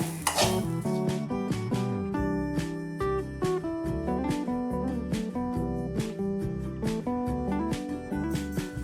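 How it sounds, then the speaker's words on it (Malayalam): Grated coconut stirred and roasted in a heavy-bottomed pan for a pumpkin and yam erissery, with a spoon scraping and clinking against the metal in steady repeated strokes, close and fairly loud over a faint sizzle. "ഇളക്കി കൊടുക്കാം നന്നായിട്ടൊന്ന് ചുമന്ന് വന്നയിടം വരെ ഇളക്കണം"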